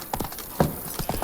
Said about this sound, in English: Look at this beast of a horse.